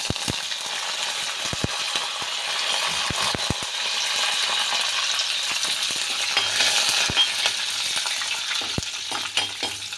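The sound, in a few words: mustard seeds tempering in hot oil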